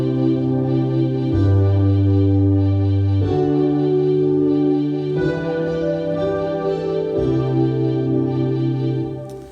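Worship song texture of a sustained synth pad, electric piano and arpeggiated strings moving through slow chord changes, steady and full with no voices.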